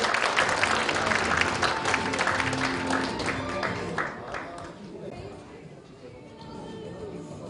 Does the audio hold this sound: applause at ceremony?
yes